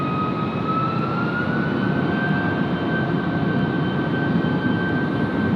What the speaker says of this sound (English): There must be something in the jet base doing an engine run